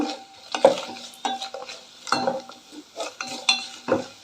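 Dried red chillies fried in a pan for carom-leaf (vamaku) chutney, giving soft stirring scrapes and light sizzling in uneven bursts, close by with no talking.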